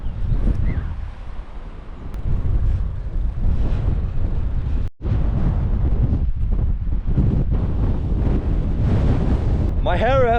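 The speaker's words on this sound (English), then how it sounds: "It is so insanely windy up here, up on these two massive hills." Strong gusts roar across the top of two massive hills, buffeting the microphone in a loud, continuous rush with only a brief lull midway.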